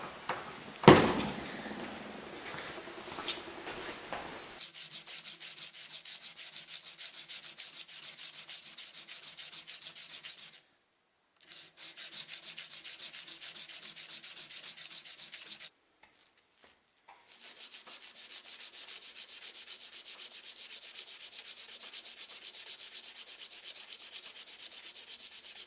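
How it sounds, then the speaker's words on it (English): A seax blade being sanded by hand with 220 grit sandpaper, a steady scratchy rubbing in long continuous strokes, broken by two short pauses, close and fairly loud. "Then by hand with 220 grit sandpaper."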